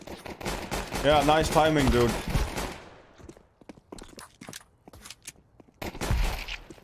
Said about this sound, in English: when you shoot them in the head with AK, it actually is satisfying as fuck